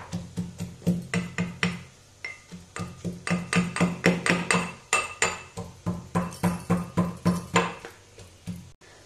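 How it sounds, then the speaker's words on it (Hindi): Whole cumin seeds are pounded in a steady, even rhythm of sharp, close knocks, several dozen blows with short clinking rings and a brief pause midway. "इसमें थोड़ा सा साबुत जीरा डाल देंगे और जीरा डाल के इसे कूट लेते हैं"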